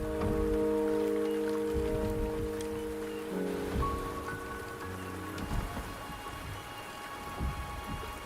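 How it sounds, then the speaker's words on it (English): Rain in the video game Akari patters steadily on surfaces, a soft close hiss with faint rumbles, under a calm layer of sustained musical tones. "The rain is subsiding, and the sky will soon clear."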